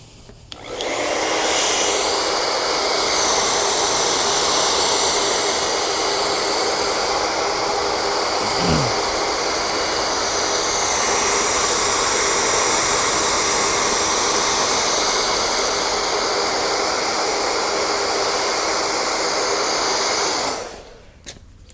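Steady, loud blowing roar of a heat gun warming a carbon fiber rear spoiler on a BMW F80 M3, running continuously for about twenty seconds before cutting off, with no talking.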